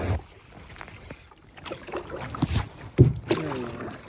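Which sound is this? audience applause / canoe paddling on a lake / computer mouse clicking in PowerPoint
canoe paddling on a lake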